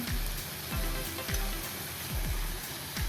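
Cauliflower gobi curry fries in a pan with a continuous soft sizzle, while a spoon stirs through it in regular scraping sweeps about every half second.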